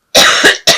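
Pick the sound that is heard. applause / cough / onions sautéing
cough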